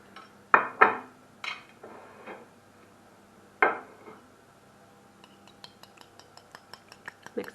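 A small mini whisk lightly beats six cracked eggs in a bowl, a few clinks and scrapes at first, then a run of quick, rhythmic light taps against the bowl side near the end.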